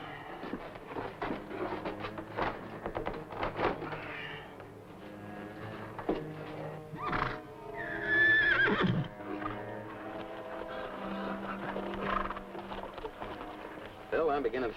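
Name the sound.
horses neighing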